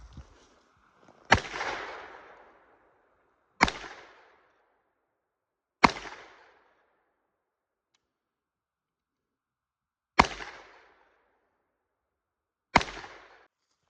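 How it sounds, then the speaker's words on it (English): Heritage Rough Rider revolver firing .22 magnum rounds outdoors: five sharp, loud single shots spaced a couple of seconds apart, each with a short decaying echo, no talk. "we're gonna shoot and see what the accuracy's like with the 22 mag"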